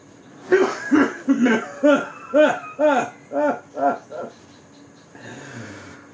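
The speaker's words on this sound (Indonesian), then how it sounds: "Dia tertawa sambil batuk-batuk kecil." A half-drunk man in a stage reading gives a series of small rhythmic coughs mixed with laughter, about eight close huffing bursts that fade out.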